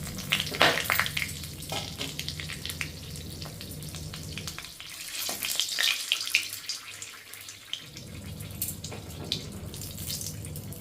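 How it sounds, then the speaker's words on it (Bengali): Whole spices (cardamom, cinnamon, cloves, dried red chillies and bay leaves) crackle in hot oil with a dense, continuous sizzle that briefly thins out midway before surging back. "তেল গরম হয়ে গেছে আমি ফোড়ন দিয়ে দেবো এলাচ দারচিনি লবঙ্গ শুকনো লঙ্কা তেজপাতা"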